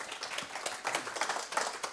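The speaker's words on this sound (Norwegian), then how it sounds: "En liten applaus." A small audience gives a brief, sparse round of clapping at a Norwegian panel event, quiet and scattered, lasting only a couple of seconds.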